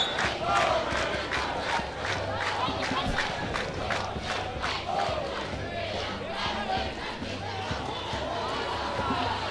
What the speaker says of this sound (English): Crowd really getting involved here.